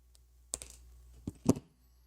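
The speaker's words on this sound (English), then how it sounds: "I'm going to go ahead and trim this off." Cutters trim the leftover out wire on a 100 watt K6ARK end-fed half-wave antenna kit, giving a few sharp snips and clicks close by against a quiet background.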